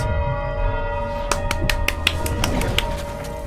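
A series of bright, ringing bell strikes in the video game It Takes Two, repeating in a quick irregular rhythm over a steady electronic hum, fairly close and moderately loud.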